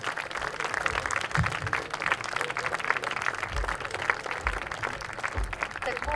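Audience applause at a concert, a dense continuous patter of many hands clapping throughout, with low thumps and some murmur mixed in.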